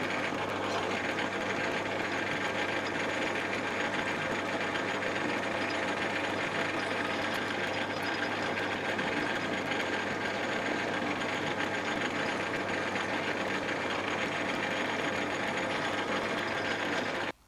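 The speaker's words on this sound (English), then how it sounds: "Now I can get the 12mm boring bar in." Metal lathe boring out a steel spindle body with a 12mm boring bar and cutting oil, a steady continuous mechanical hum with a faint ticking, gear-like rattle running throughout at close range, no speech.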